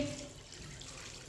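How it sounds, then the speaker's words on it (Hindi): Water poured from glasses into a wok (kadhai) holding chicken pieces, a steady close splashing and gushing that starts strong and settles into an even flowing wash. "2 गिलास पानी डाल लेंगे।"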